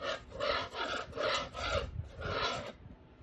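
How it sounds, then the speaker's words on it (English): A small scraper knife pulls paint off a surface in about five rhythmic rasping strokes, close and fairly loud, each scrape a short burst with brief pauses between, alone without talk. "you're just going to take your little scraper knife and you're just going to start pulling some of this paint off"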